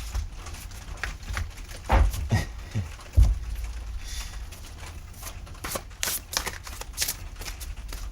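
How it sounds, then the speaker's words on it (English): A giant, slightly mismatched double deck of cards is riffled and shuffled up close, giving repeated crisp fluttering bursts and soft taps. "It's a double deck. They're slightly missized, but close enough to shuffle."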